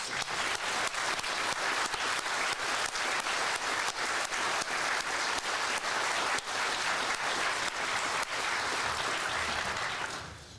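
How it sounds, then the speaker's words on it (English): Audience applause for students at an awards ceremony, a long, loud, even wash of many hands clapping that holds steady for about ten seconds before tapering off. "Let's all give the students a big round of applause."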